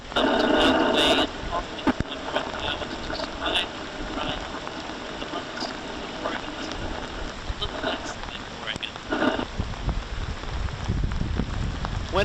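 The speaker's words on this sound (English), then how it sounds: "when it is raining, as it is now, when Oregon does seem like Oregon" Steady rain falls in Oregon, a broad hiss of drops on surfaces with brief louder bursts, and a voice speaks intermittently over the downpour.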